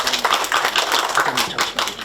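Town hall meeting audience clapping together in a community hall, a brief burst of fairly close, dense, irregular claps.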